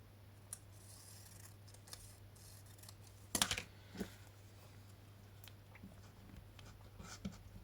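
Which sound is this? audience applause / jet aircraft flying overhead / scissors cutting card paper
scissors cutting card paper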